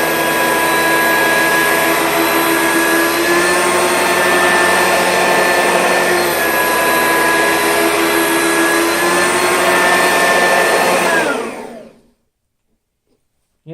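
An Oreck XL2800 upright vacuum cleans a carpet edge along a wall, running as a loud, continuous close-up whine with a steady motor hum for about eleven seconds before powering down and falling silent.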